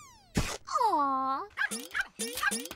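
A cartoon puppy whimpers and yips in a short animated scene: a rising squeal, a long wavering whine, then three quick high yelps in a row, clear and close.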